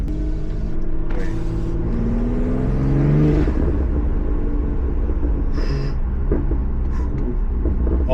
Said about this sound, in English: I'm driving an M340.